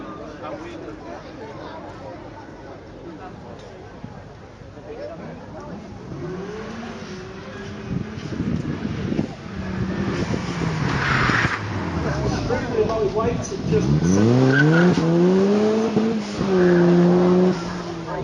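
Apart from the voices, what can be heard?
road-legal 4-cylinder car with 2-litre Ford EcoBoost engine driving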